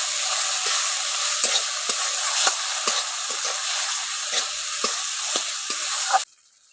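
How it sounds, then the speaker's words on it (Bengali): Chopped tomatoes with spices fry in a pan while being stirred, giving a steady close sizzle broken by repeated scraping strokes of the spoon, then cutting off abruptly at the end. "টমেটোর কুচি দিয়ে একটু ভালো করে নাড়াচাড়া করে একটু কষে নিচ্ছি।"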